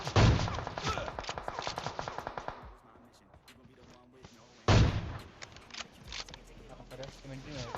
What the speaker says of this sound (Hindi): लेकिन कोई और गोली चलाने लग जाता है